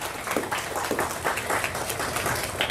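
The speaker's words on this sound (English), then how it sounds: "And to the RV staff, a round of applause." Audience at an education awards ceremony giving a round of applause, steady dense clapping from a mid-sized crowd, moderately loud and without talk.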